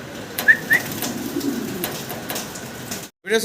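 A pair of fancy pigeons give short soft calls, a couple close together and one more near the end, over a steady rain-like hiss.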